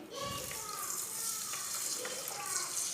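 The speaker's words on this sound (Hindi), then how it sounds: "साथ में पानी डालेंगे।" Water poured onto sugar in a pan to make syrup for makhandi halwa, a steady close splashing wash heard under a talking voice.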